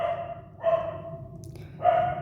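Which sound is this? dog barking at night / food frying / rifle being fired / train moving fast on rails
dog barking at night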